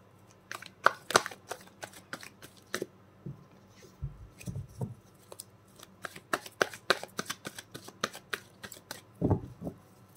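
Tarot cards are shuffled by hand, making a long run of quick, crisp riffling flicks and slaps at close range, with a couple of denser bursts and no speech.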